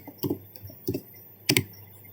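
Keys clacking on a computer keyboard while a router command is entered, heard as three short separate bursts of clicks spaced across a quiet, close-miked room.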